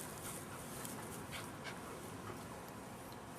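Two dogs fight up close, with continuous scuffling, panting and occasional whimpers over a noisy background.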